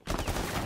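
Rainbow Six Siege gunfire, a dense sub-second burst of rapid shots crackling loudly across the whole range.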